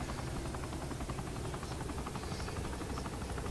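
A video game helicopter drones steadily and faintly throughout, its rotor pulsing as an even, buzzy hum with no voices over it.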